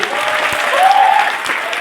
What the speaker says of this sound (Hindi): मैं चाहूंगा कि रॉयल वेकेशन के लिए उनकी टीम के लिए शानदार तालियां होनी चाहिए